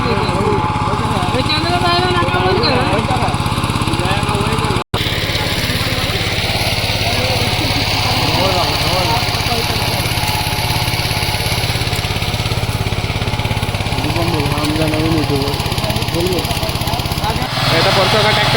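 Tractor engine running on a farm, a steady close throbbing drone that continues through the whole stretch, with people talking over it.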